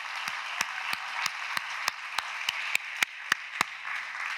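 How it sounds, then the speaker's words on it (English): A lecture audience claps for Rebecca at a spring faculty lecture, a sparse run of about a dozen evenly spaced sharp claps over a steady room hum. "So I thought we could all clap for Rebecca"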